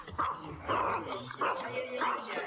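Dogs yip and whimper in a quick cluster of short, nearby cries over roughly two seconds, blending with a busy, noisy indoor background.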